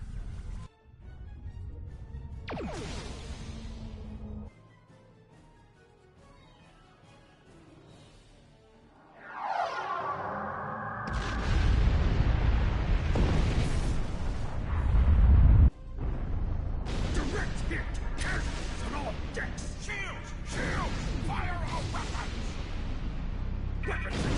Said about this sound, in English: We have target lock, Captain. Fire.